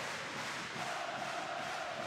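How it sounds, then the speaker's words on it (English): A basketball arena crowd at a Champions League game rising to its feet, a broad roar of cheering that swells and holds steady for about two seconds. "And the crowd get to their feet."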